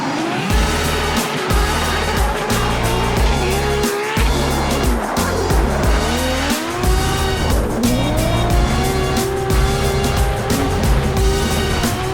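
Loud engines of drift cars roar and rev continuously while tires squeal in long wavering screeches, close by, at a 2023 Formula Drift round at the Utah track in Salt Lake City.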